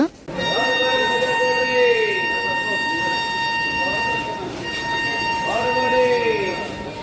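The Ratnachal Express with new LHB coaches pulls out of Tuni station, a long steady horn tone sounding over rumbling motion while people talk nearby.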